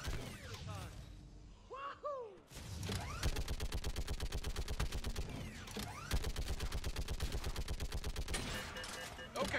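Rapid automatic gunfire from Mass Effect combat on Insanity difficulty, dense repeated bursts of shots running almost continuously after a brief lull with a rising electronic whine, loud and close.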